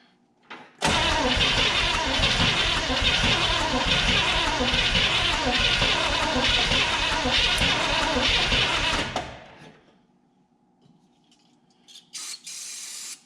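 The engine of a 1974 Chevrolet 4x4 farm truck, abandoned for 15 years, cranks and then roars loudly and harshly for about eight seconds. It dies away to near silence, followed by a few faint clunks.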